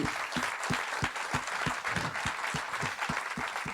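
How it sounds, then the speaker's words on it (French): Sustained audience applause at an evening awards-style gathering, many hands clapping densely and steadily at close range for the whole stretch, with no speech over it. "je pense que ça mérite quand même un applaudissement incroyable pour Yazid."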